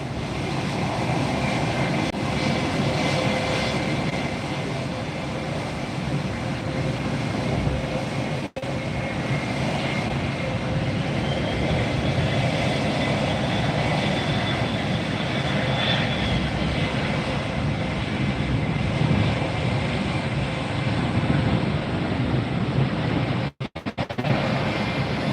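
An Avianca airliner in Star Alliance livery thunders past at Fort Lauderdale airport, a loud, continuous jet engine roar sustained throughout with a faint whine riding over it.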